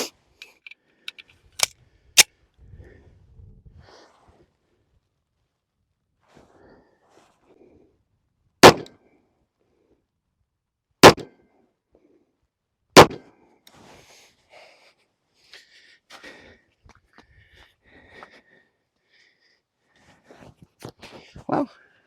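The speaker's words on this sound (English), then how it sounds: "We will shoot this one. I'm gonna go back 7 yards, shoot that shooting C, and see how she shoots." Tisas Manta Ray 1911 .45 ACP pistol shots at an outdoor range: sharp, isolated cracks, two close together early, then three more spaced several seconds apart, with quiet rustling and faint voices between.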